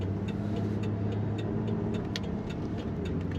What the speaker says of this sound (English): Today we're driving a very nice 1995 Buick Riviera.